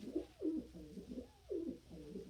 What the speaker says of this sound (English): Yeah, that sweet bird.